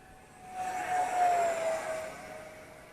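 An Arrows T-33 Shooting Star 50mm EDF model jet flies past, its ducted-fan whine swelling from about half a second, peaking near the middle as it passes close, then easing off while still airborne.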